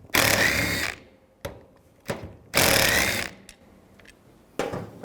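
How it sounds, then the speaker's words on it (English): Ratchet with a 10mm socket backing out wiper motor bolts on a 2000-04 GMC Yukon, heard as two long bursts of rapid clicking with short metallic knocks and taps between them, close and clear. "take these 2 bolts out, use a 10mm socket"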